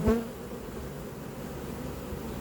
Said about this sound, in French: Et puis c'est pas de l'abeille agressive.